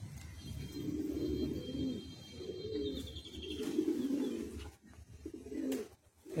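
Low, throaty cooing comes from Andhra Madrasi high-flying pigeons, a kalsira cock and hen among them, in repeated swelling phrases up close, with a few light chirps and a short pause before the calls resume.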